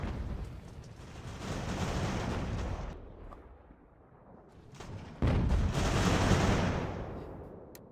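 Mortar and artillery fire rumble through a battle in Ultimate General: American Revolution, with heavy booming blasts in two loud swells and a quieter lull between them, and no voices.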